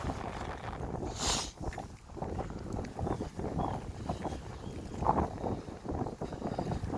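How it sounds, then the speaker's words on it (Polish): Wind gusts across the microphone outdoors near a historic courtyard in the Polish town of Brzeg, a fluctuating roar that swells and dips in uneven bursts. "Wiatr wieje."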